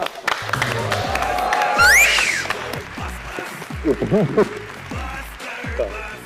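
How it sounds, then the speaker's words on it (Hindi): A studio audience on an interview chat show bursts into applause and cheering to welcome a guest, loud and sustained, with a host's voice and musical stings layered over the clapping. "फिर आप सबकी तालियों में तशरीफ लाते हैं"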